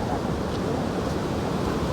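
Steady broadband rushing of falling water fills the scene, a constant roar with no breaks and no voices.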